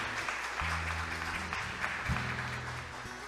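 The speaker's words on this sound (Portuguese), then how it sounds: "Vamos aplaudir o Senhor Jesus Cristo" A church congregation applauds in praise of Jesus Christ during a sermon, with moderate clapping sustained under a low, droning hum of instruments.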